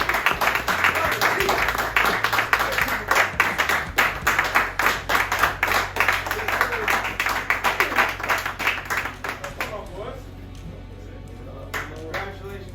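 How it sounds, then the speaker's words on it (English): Clapping from a small group welcoming a football guest, with dense, sharp individual claps and some voices mixed in, thinning out toward the end. "let's clap it off"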